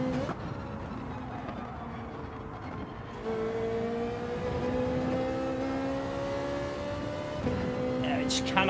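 A Citroen race car in Gran Turismo 7 drones steadily, its engine pitch climbing through gear changes and shifting a few times, with a possible voice faintly underneath.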